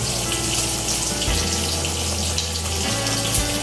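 Fish sauce pours into a pot of beef soup on the stove, a continuous close liquid trickle and splash over a low background hum, with no voices.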